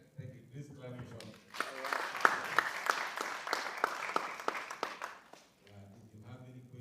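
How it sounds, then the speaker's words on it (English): An audience claps for a speaker named Sean, a burst of applause that rises quickly, holds for a few seconds and then fades, with voices talking before and after it. "Please clap for Sean"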